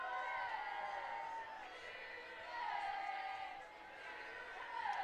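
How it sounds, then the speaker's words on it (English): University of Sheffield fans cheer at a women's rugby union varsity match, a distant crowd roar swelling and fading in waves, faint beneath continuous commentary. "the Uni of Sheffield fans cheering them on"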